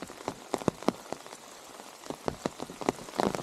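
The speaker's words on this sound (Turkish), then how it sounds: "Şimdi bayağı yağmur yağıyor." Heavy rain drumming on a small, light, folding trekking umbrella on a forest trail in Japan, close and steady, with irregular louder drops pattering across the canopy.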